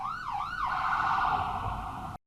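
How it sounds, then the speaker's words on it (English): A police siren wails in the distance on a Seattle city street, rising and falling before settling into a steady tone, fairly faint with no talk, then cutting off abruptly. "there's a police siren going off in the distance"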